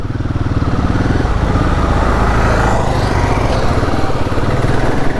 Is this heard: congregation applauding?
no